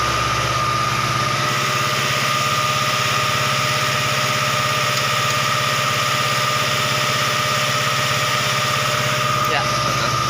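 A motorcycle engine idles steadily and loudly up close during exhaust catalytic converter cleaning, a constant buzzing drone with a high whine, while a person talks over it.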